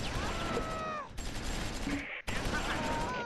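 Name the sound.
gunfire in Close Combat IV video game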